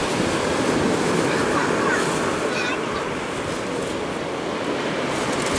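Rough, wild sea surf roars in a continuous broadband wash, with wind buffeting throughout and no distinct breaks between waves.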